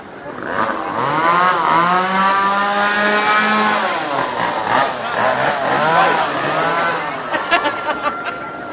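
A chainsaw engine runs loudly while being juggled, its pitch rising and falling as it revs, with crowd noise underneath.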